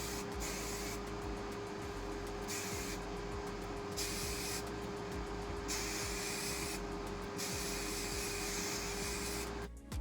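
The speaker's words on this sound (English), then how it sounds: "I'm just gonna give it another spray" Aerosol hair spray sprayed in repeated bursts, several long hissing sprays with short pauses between them, close and steady.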